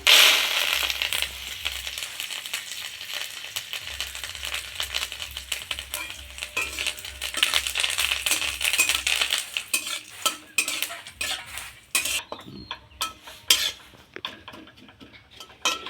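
Chopped curry leaves being stirred in a pan over a low gas flame: a spoon scrapes and clatters against metal amid a soft sizzle, with tapping that grows busier and sharper toward the end.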